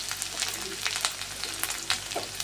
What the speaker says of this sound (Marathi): तेल आपलं गरम झालेलं आहे, त्याच्यामध्येच मी आता लसूण आणि आलं घालून घेतलेलं आहे